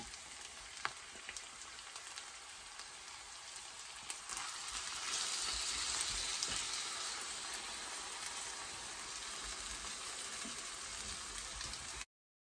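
Minced ground beef frying in a pan over chopped onion, a steady broadband sizzle that swells louder partway through and continues alone to the end.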